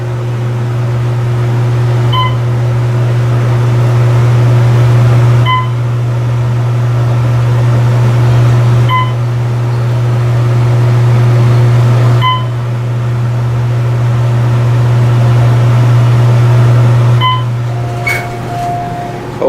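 An Otis Series 2 Mod 6 traction elevator with a basic cab runs at the Peppertree Ocean Club Resort in Myrtle Beach, giving a steady low hum with soft beeps repeating every few seconds, with no voices.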